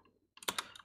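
Several quick keystrokes tapped on a computer keyboard while entering a terminal install command, a short cluster of close, crisp clicks after a brief pause.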